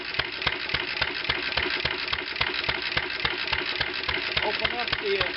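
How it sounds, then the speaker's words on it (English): A 1920 International Type M engine runs on its magneto, giving a steady, rapid string of sharp mechanical knocks and clicks at an even pace, close and continuous. "The engine is now running on the magneto."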